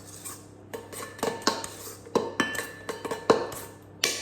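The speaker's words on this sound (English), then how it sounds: "We add half of our ingredients into our cake tin." Batter for an apple and cinnamon loaf cake is spooned and scraped into a cake tin, giving a run of uneven utensil clinks and scrapes against the tin with short pauses between them, close and fairly quiet.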